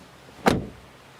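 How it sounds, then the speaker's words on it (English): A single solid thud as the door of a VW T-Roc shuts, close and clear, over quiet background with no talking. "Door closing sound."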